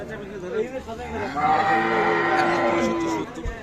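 A cow lows at a cattle market where Friesian cows and calves are being sold, one drawn-out, fairly close moo amid faint background voices.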